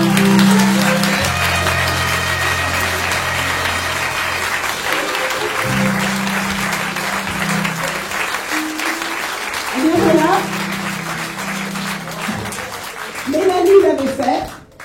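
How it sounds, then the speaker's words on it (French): Audience applause at a French association's commemorative show, honoring the stage director Nicole Play: steady sustained clapping throughout, with a voice speaking over it near the start and brief swells of louder clapping toward the end. "Nicole Play, on applaudit très fort."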